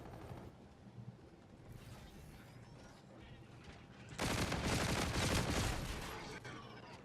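Rapid gunfire from an X-Eon MCP weapon in a first-person shooter video game: a quieter stretch of scattered game noise, then a loud, sustained burst of shots in the second half that tapers off near the end.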